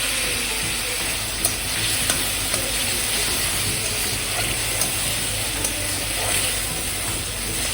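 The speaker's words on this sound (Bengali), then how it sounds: "মশলাটা কষে গেছে, এবার মিক্সি ধোয়া জলটা তার মধ্যে দিয়ে দেবো।" Water from rinsing the mixer jar is poured into fried spice paste in a pan, raising a dense, loud, continuous sizzle and steamy hiss, with small ticks and stirring sounds scattered through it.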